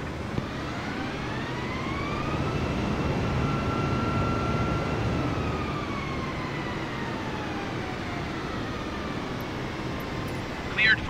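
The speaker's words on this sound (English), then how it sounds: "Cleared for takeoff runway 17 left Airbus 320." An Airbus A320 taking off from runway 17 left in a flight simulator, from Shanghai Pudong, gives a steady jet engine roar with rising whining tones that swell and hold, loud and continuous, with no speech.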